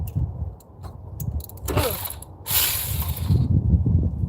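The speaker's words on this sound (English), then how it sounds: "Using a 10mm socket to bust these loose." Ratchet with a 10mm socket loosening bolts on a 1997 Chevy, close-up clicking and grinding strains in short bursts over a steady low mechanical background.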